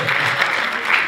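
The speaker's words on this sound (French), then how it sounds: "Applaudissez-vous vous-même d'abord." Audience applause at a French-language one-man comedy show, a brief, loud burst of crowd clapping with no break.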